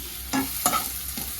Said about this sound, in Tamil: வெங்காயம் நல்லா வதங்கிட்டு இருக்கு பாருங்க.